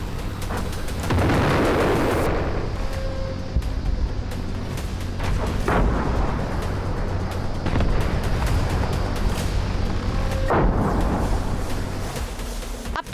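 A precision strike blows up an armored military vehicle in a series of heavy, rumbling blasts and rolling booms, with loud sustained roar and several sharp bursts spread across the stretch.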